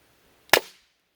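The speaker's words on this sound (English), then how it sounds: "that was loud. Think of it as a really loud cap gun." A 3D printed wrist-mounted gun fires a single sharp, very loud crack like a cap gun, close up, with a short decaying tail and no other sound.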